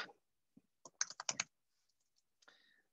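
Typing on a computer keyboard: a few scattered keystrokes, then a quick cluster of clicks, then a lighter final burst, close and quiet in an otherwise silent room.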